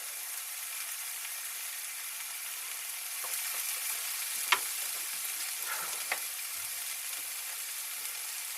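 Bolognese sauce sizzles and fries steadily in a pan while being stirred, with a few brief scrapes and clicks of the utensil against the pan over a constant hiss.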